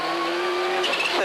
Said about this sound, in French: Pour Colin McRae, ici dans les derniers kilomètres, c'est le deuxième succès consécutif au Tour de Corse